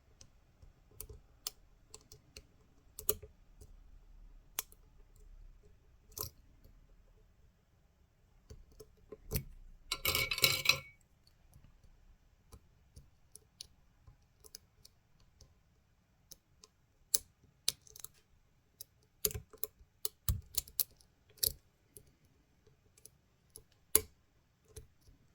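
Lock pick clicking against the pins of a Minit/GEGE lock with a tight, awkward keyway: scattered small close clicks and ticks, irregular and mostly isolated, with one brief denser burst of rattling partway through, and no talking.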